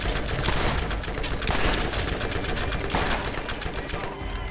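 Gunfire in the video game Borderlands as a whole magazine is emptied. Rapid shots crackle in a dense, continuous burst, loud and close, with no pause.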